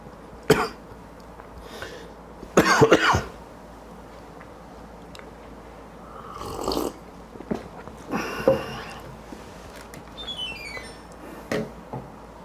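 A few separate coughs and throat-clearing bursts, close and fairly loud, spaced out with quiet stretches between them.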